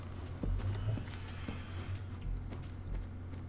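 Hooves of a horse in Minecraft clip-clop at an easy walking pace nearby, soft irregular steps over a low background hum.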